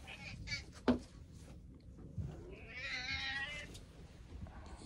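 A cat gives a drawn-out, whiny meow, preceded by a short sharp sound, with quiet background noise around it.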